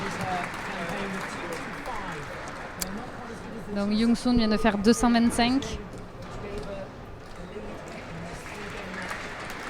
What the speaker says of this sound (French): tout le monde qui applaudit dans la salle